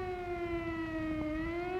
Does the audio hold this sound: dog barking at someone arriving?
no